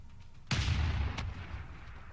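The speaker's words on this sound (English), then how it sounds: "I could actually start shooting at them" A single heavy booming shot from a city's ranged attack in Civilization 6, loud and close, with a long rumbling decay and a sharp secondary crack partway through.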